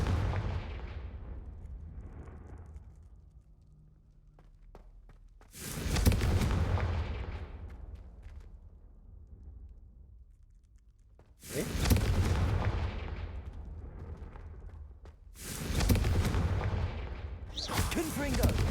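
Confringo blasting curse explosions in a video game, three loud booming blasts spaced several seconds apart, each with a long rumbling tail over a low background rumble.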